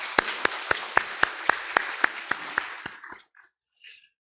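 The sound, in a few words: church congregation applauding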